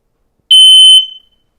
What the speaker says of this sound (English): test your working smoke alarms in less than 5 minutes